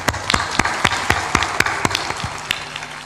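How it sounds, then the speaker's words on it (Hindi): Applause at a gathering in India: a dozen or so sharp, distinct hand claps in a steady rhythm, close and fairly loud, with no speech over them. "ताली बजा दो इनके लिए"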